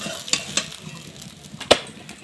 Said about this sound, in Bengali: এখন আমি উল্টিয়ে দিয়ে একটু ভেজে নিব